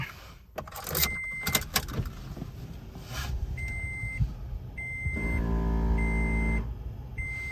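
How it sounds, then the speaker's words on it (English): Car being started, with keys jangling and a door clunk at first, then chimes and a rising engine hum as the motor catches and settles into a steady idle, close by with no talking. "turn on the car real quick"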